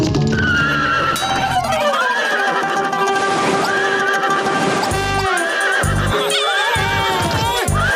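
A cartoon horse in a Motu Patlu animated scene neighs and whinnies loudly in long rising and falling calls, with galloping hoofbeats clip-clopping through, set against a dense, busy music-and-effects mix.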